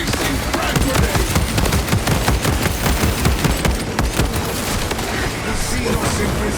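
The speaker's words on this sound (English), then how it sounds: "Releasing frag grenade." Dense, continuous gunfire and blasts in a Warhammer 40k game, loud and unbroken, with a frag grenade explosion lost in the barrage.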